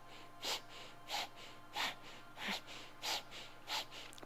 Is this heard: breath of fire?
yes